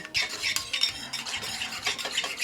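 Whisking a thick burger sauce of relish, mayonnaise, ketchup and black pepper in a bowl, steady scraping and clicking strokes of a whisk against the sides, close and continuous with no talk.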